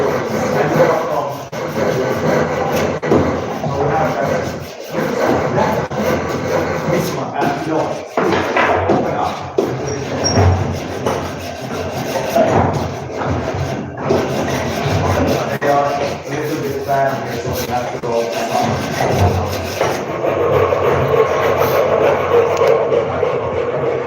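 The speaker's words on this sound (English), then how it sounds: "I'm using the sandpaper to smooth it out" Sandpaper rubs back and forth over a wooden bed frame in rough, repeated strokes, loud and close, with short pauses between passes.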